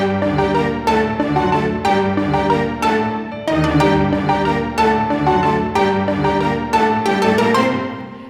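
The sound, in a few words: piano playing crotchets on the beat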